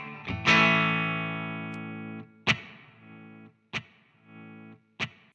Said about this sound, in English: you can add some reverb and delay in post